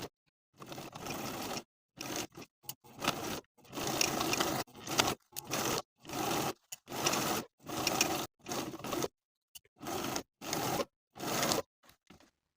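A sewing machine stitches the side seams of a lined vest with back stitching, running in a series of short, separate bursts of whirring with brief silent gaps between, close and clear with no talk.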